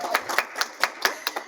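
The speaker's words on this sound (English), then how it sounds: "I love that Christy's getting claps right off the bat" An audience clapping for a speaker at a leadership awards event, quick sharp claps in a loose rhythm from several hands, fairly close and with no talking.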